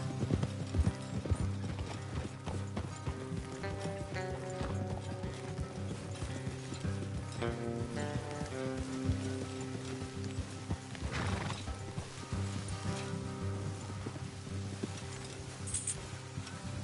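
Steady clip-clop of horse hooves in the video game Red Dead Redemption II, with creaking tack and soft mechanical rattles, a continuous rhythmic trot under a low ambient bed.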